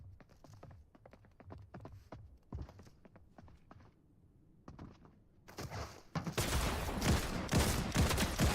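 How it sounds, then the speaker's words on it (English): Shotgun blasts in the Fortnite video game: a series of sharp, separated shots in the first half, followed by a dense, loud burst of gunfire near the end. "That's a shotgun."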